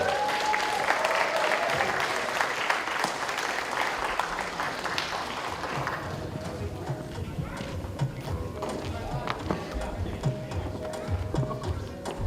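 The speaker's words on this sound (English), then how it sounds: "another round of applause for Mr. Brandon White" Guests at a wedding reception applaud the couple, a dense wash of clapping that fades partway through into lighter scattered claps while people talk in the background.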